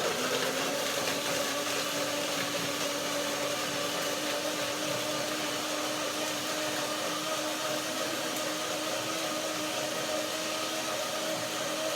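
A blender runs continuously at high speed, a loud steady whirring drone with a slight dip in pitch near the start.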